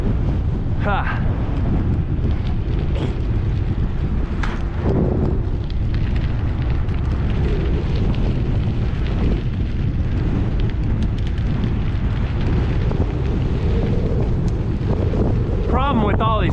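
Heavy, constant wind buffeting roars across the microphone of a cyclist riding downhill into a headwind, loud and unbroken throughout, with a brief voice near the start.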